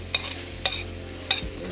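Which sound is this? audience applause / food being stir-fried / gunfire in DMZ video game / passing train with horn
food being stir-fried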